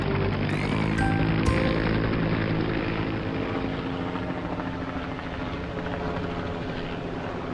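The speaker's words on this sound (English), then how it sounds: "Now our cargo helicopter can fly." A cartoon cargo helicopter with two big propellers flies, giving a loud, steady rotor and engine drone that holds throughout with a few brief higher tones near the start.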